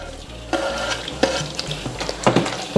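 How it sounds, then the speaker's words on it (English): Chopped onions go into a pan of Ugandan-style peanut sauce, with a loud close sizzle and repeated scraping stirs of a spoon against the pot over a steady frying hiss. "I'm going to add in my onions right now"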